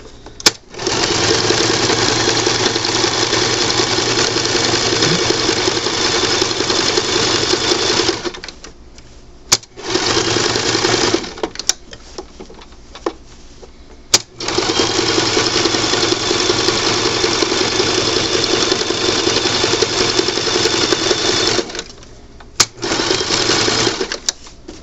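A sewing machine runs a zigzag stitch along a reusable sandwich bag in three long bursts, steady and close, broken by short pauses; no one speaks.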